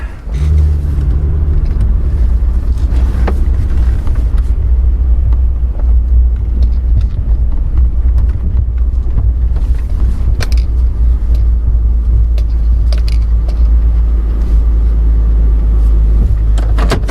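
A car engine runs steadily with a deep, continuous low rumble while the car is pulled forward. It is close and loud throughout, with a few faint mechanical clicks and knocks over the drone.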